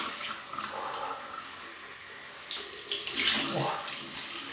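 Cold tap water runs steadily into a basin for a rinse while shaving, a broad, even wash of water that swells and splashes more strongly near the end.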